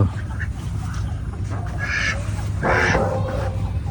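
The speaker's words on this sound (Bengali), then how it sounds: "ধর হাঁস ধর" A duck quacks a few times at close range over a steady low background rumble, with short nasal calls standing out in bursts.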